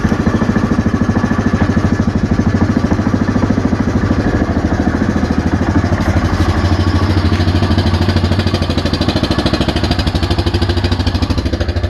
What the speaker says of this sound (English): Go ahead and start it up.